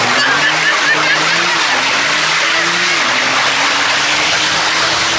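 A Porsche sports car worth about 500,000 euros roars loudly and steadily for the whole stretch. The engine pitch swells and dips in a series of revs, with faint voices now and then.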